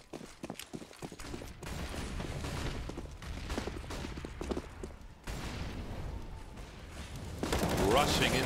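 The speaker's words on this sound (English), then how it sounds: "Peppering with the MP9 is Steel" Rapid MP9 submachine gun bursts in a Counter-Strike match on the Train map, dense crackling volleys with distant explosions and game noise, alongside fast commentary.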